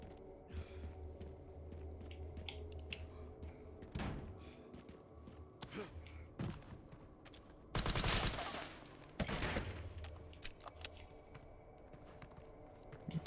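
Gunfire at enemies in the video game Resident Evil Requiem: scattered loud shots and thuds over a busy game soundscape, with two long, dense bursts of sustained firing near the middle.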